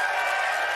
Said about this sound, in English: Give her a round